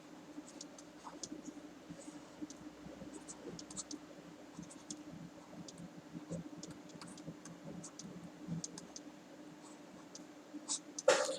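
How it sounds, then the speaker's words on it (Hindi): Writing on a board during a classroom lesson, faint continuous scratchy strokes with small taps, quiet and close, with no talk. "तो यहाँ पर मैं इसे लिख देता हूँ पहले।"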